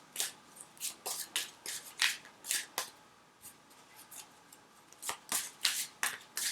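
Chakra Wisdom Oracle cards are shuffled by hand in a quick series of crisp riffling bursts, each separated by a short pause and heard close with no talking.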